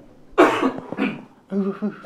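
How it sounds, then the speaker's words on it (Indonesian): A short, sharp cough rings out close by, followed moments later by someone starting to speak. "Batuk-batuknya."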